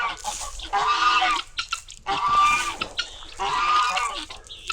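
Guinea hens and chickens call loudly at feeding time, harsh honking bursts in three clustered bouts close by with short gaps between them.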